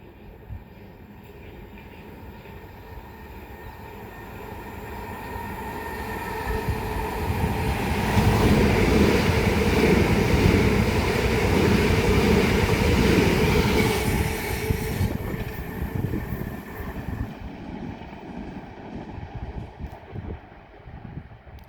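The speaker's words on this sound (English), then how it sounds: "past through now is going to be a pair of Southeastern Class 375s going from London Charing Cross to Ramsgate" A pair of Southeastern Class 375 electric trains runs through Grove Park station on the South Eastern Main Line, the rumble and clatter of wheels swelling to a loud roaring pass before fading away.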